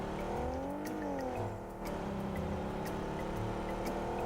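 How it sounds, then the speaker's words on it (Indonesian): A noisy two-seater car engine in the PUBG Mobile video game drones steadily with shifting revs, close and continuous throughout. "Berisik tapi mobilnya."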